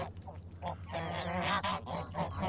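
A flock of geese on a farm honks in a rapid, overlapping cluster of nasal calls, fairly close and continuous over a low background hum, with no voices.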